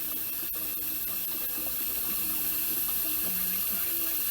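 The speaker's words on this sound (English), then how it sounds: "So I'm going to add nice cold water from the tap" Cold tap water pours steadily into a kitchen sink, a constant close hiss and splash with a few faint knocks and clinks underneath.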